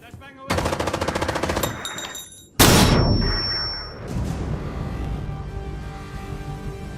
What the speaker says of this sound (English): Flashbang away.